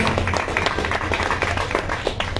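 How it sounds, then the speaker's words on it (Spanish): An audience at a forum on past and present crimes applauds a speaker: loud, dense clapping from many hands, sustained and steady throughout. "Démosle un fuerte aplauso a nuestra compañera que está aquí con nosotros"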